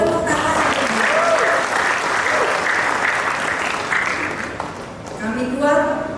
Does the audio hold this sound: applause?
yes